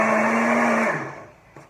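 A blender whirs loudly for under a second while mixing chocolate cake batter with a spoon of vinegar, then spins down and stops, followed by a faint knock.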